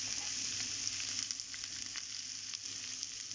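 Onions sautéing in a pan for a spinach and coconut dish give off a steady, close, even sizzle with a few faint stirring scrapes, and no talk over it.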